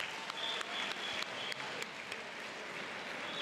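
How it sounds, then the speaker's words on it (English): Conference audience of teachers' union delegates applauding the minister, a faint, distant, steady patter of clapping in a large hall with a few sharper individual claps. "Let's give the minister a big round of applause,"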